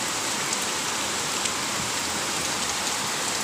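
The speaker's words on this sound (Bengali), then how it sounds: "দেখছো কত সুন্দর বৃষ্টি।" Steady rain falls continuously near a kitchen, a dense even hiss of drops on surfaces with no pauses and no voices.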